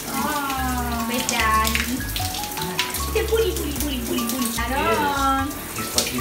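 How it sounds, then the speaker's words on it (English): Water runs steadily from a shower while a baby is bathed with his parents, a loud continuous spray with changing splashes as adults talk and coo over it. "His first shower with his parents."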